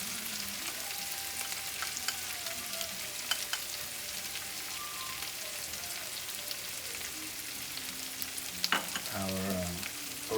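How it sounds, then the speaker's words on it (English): Garlic, bell peppers and onions sautéing in a pan for sausage and peppers, a steady close crackling sizzle throughout with a couple of brief spoon clinks near the end. "Our peppers and onions have been sauteing nicely"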